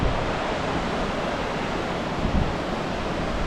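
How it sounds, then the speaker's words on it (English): A steady, broadband rush of Waterwheel Falls in Yosemite roars continuously up close, with no talking over it. "We got Waterwheel Falls."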